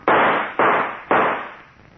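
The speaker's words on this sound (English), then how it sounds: "All right, then I'll shoot." Three sharp gunshots ring out in an old radio drama, evenly spaced about half a second apart, each a loud bang with a short decaying tail, with no voices over them.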